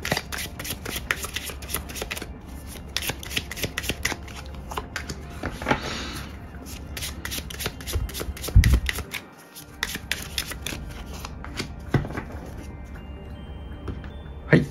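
A deck of tarot and oracle cards is shuffled close up, producing a dense, steady stream of papery flicks and riffles over a faint constant background hum, lasting the whole stretch with only a brief pause midway.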